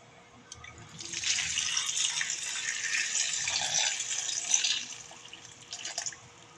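Water from a tap runs into a container to soak sliced mung beans, starting abruptly after a quiet moment and flowing as a steady splashing hiss for about five seconds before stopping, with faint background noise and no voices.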